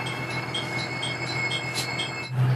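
A JR Hanawa Line local train rolls along the rails with a steady rumble and faint rhythmic clicks, close by and continuous, ending in a low hum.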